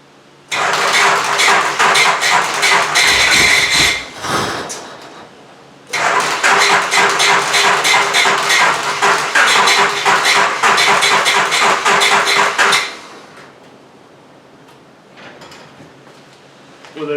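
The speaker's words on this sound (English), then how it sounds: "it seems like it's cranking relatively hard" A Honda car engine cranks hard without catching, a loud, steady whirring churn held for about four seconds, a short pause, then another long crank of around seven seconds before it stops.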